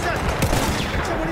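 Lever-action rifle fire in the World War I shooter Battlefield 1, a quick burst of gunshots layered with distant battle noise, moderately loud.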